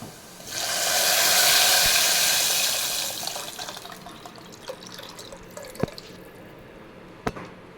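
Tamarind masala water for a fish curry pours into a pan in a loud splashing rush for about three seconds, then settles into quieter drips, sizzles and a few sharp clinks of utensils.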